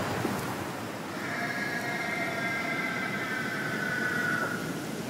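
A pig squeals in the horror game Amnesia: A Machine For Pigs, a drawn-out, wavering high cry lasting a few seconds over a steady noisy ambient background, with no talk.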